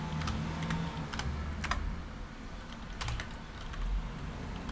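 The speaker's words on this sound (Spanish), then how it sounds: "le doy control al G como atajo de teclado" A Ctrl+G shortcut is pressed on a computer keyboard while working in Excel, giving a run of quick, light key clicks scattered across a few seconds over a steady low background hum.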